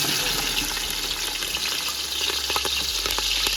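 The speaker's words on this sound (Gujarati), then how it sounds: "રાઈ જીરું નાખીને આપણે મરચાં નાખી દેવાના છે" Mustard seeds, cumin and chilies fry in hot oil for batata poha, giving a steady, loud, dense crackling sizzle that fills the whole clip with no talk over it.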